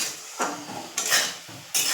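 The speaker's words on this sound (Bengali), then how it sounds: "তো এবার নাড়াচাড়া করে একটু ভাজা ভাজা মতো করে নেবো।" Shrimp and beans with poppy seed are stirred and fried in a pan, with a few distinct spatula scrapes and clanks over a soft sizzle, close and unaccompanied by speech.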